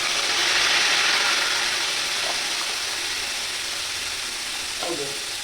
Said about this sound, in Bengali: আগে আমি আদা, পেঁয়াজ, রসুনটা তেলের মধ্যে ছেড়ে দেবো।